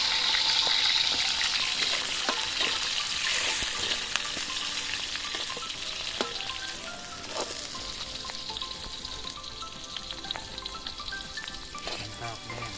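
Bamboo shoots being sautéed in a pan give a continuous close frying sizzle, with light scraping and clinking of a utensil through it and no talk.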